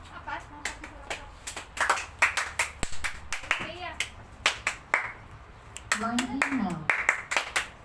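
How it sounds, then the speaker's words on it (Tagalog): Close, crisp hand claps follow one another in quick uneven runs, while people talk between and over them. "Apat, apat na palakpak"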